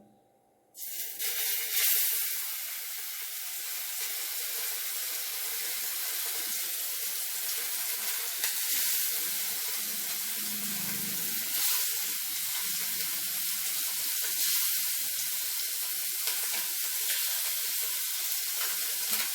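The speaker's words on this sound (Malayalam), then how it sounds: "ഓരോ മീനെടുത്ത് ഫ്രൈ ചെയ്യാനായിട്ട് നമുക്ക് അതിനകത്തേക്ക് വെച്ച് കൊടുക്കാം" Small fish dropped one by one into hot oil, a sudden rush of loud, dense sizzle after a quiet start, then a steady spitting hiss with faint scrapes continuing close up.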